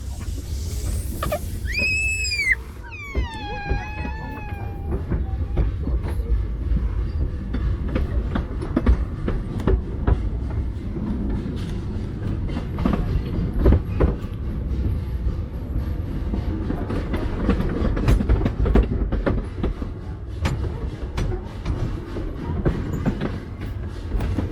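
Cripple Creek and Victor narrow gauge train rolling along its rails in Colorado, a steady loud rumble with rhythmic clickety-clack, opening with a few sharp rising and falling whistle-like squeals before the continuous ride noise.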